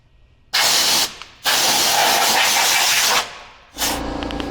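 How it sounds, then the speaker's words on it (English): Compressed air sprayed from a can into a truck, two long loud hissing bursts with a short break between, then a third burst starting near the end, no talking. "I'm gonna spray some compressed air up there before I do anything"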